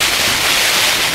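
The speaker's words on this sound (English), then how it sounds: "Yeah, that's the noise of the rain, really loud." Heavy rain drums on a Hilleberg Soulo tent during a windy wild camp in the Peak District, a loud, dense, steady hiss of countless impacts filling the space without pause.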